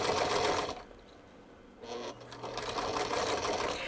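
A sewing machine stitches a fabric project bag in close, steady bursts, whirring briefly, pausing for about a second, then running again for a longer stretch.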